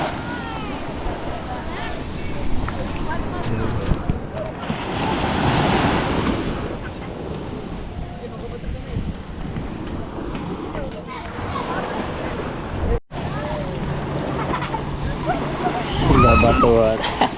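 Sea waves wash near a shore in Cebu, a constant broad roar with gusts of wind buffeting the microphone, while people chat and call out over it.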